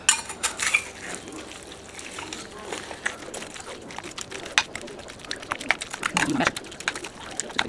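A utensil clinks and scrapes against a baking dish while salmon and tomato pasta is mixed with melted Parmesan and mozzarella; scattered light taps and knocks come at close range.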